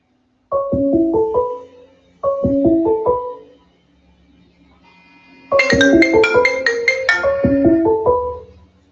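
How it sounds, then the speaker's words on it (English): A phone ringtone for an incoming call plays a melodic run of bright tones twice, then after a short pause a louder, busier burst of ringing tones, close and alone with no talk. "I'm getting some ringtones. Somebody's calling me."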